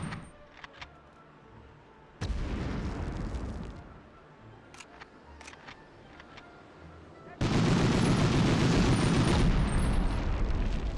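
Loud explosions and gunfire from a Medal of Honor combat game come in heavy bursts, with a sustained blast roar that starts and stops abruptly between sharp shots.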